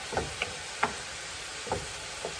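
Minced garlic being stirred into meat frying in a pan, with a steady sizzle underneath and about five distinct scraping strokes of the utensil spaced irregularly, close and fairly clear.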